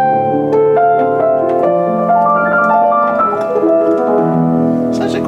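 A soft, muffled Kawai KS-1F upright piano, practice felt between hammers and strings, plays a gentle descending melody with chords, the notes dull and subdued rather than bright.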